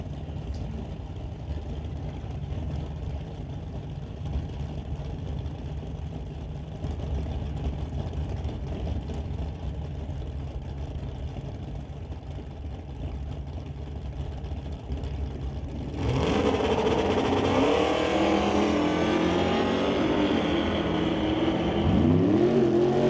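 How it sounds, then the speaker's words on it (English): A Dodge Dart drag car at a drag strip test-and-tune session rumbles at a distant idle, then roars into a loud acceleration run partway through, the engine note climbing steadily with no talk. "driving the Dodge Dart."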